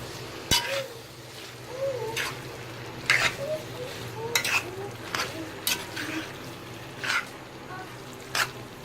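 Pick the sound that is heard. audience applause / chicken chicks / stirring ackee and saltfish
stirring ackee and saltfish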